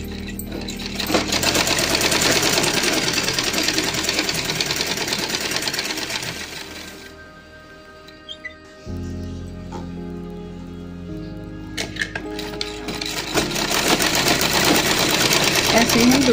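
A sewing machine stitches the side seam of drawstring shorts with a fast, steady mechanical patter, pausing midway and then resuming. Someone talks over parts of it.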